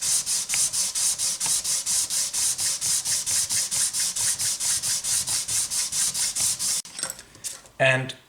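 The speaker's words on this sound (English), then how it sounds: "continue the sanding" A saddle sanded by hand in steady back-and-forth strokes, a rhythmic rasping scrub repeating about every quarter second, then stopping for a few softer handling sounds at the end.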